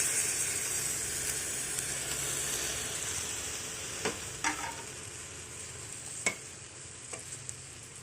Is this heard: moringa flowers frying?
yes